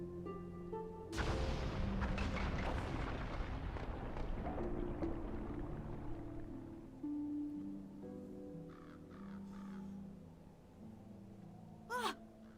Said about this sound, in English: this explosion was caused by weapons